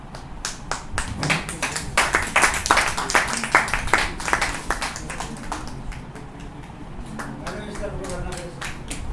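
Audience applause at a Hindi book launch ceremony, a dense burst of clapping from many hands that swells and then thins toward the end, with voices talking faintly beneath it.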